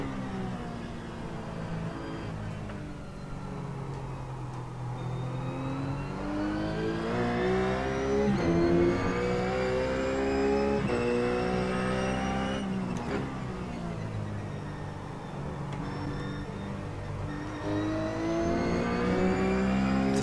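A race car engine in a racing video game revs steadily through gears. Its pitch sweeps up and down continuously as the car accelerates and brakes through corners, loud and close, with no talking.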